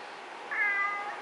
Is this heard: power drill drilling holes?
no